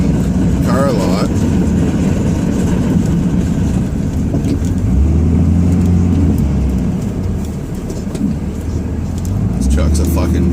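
Ram 2500 diesel pickup plowing a snowy backyard lot, its engine droning steadily with low rumbling and shifting tones throughout, loud and close, with someone talking over it at times.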